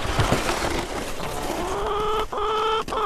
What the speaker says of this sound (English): All thanks to a chicken on a sled.